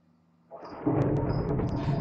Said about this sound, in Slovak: Blesk!